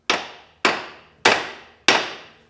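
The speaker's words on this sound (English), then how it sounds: "whack that with a hammer a couple times before you try to break it loose" Four evenly spaced, sharp metallic whacks from a hammer striking the differential drain plug on a Polaris Ranger XP 1000 UTV, each hit ringing briefly and decaying, close up with no talking.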